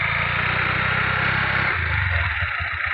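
A motorcycle engine runs while submerged in river water, a low, muffled, throbbing idle that pulses steadily, then sags into a rougher, lower chugging.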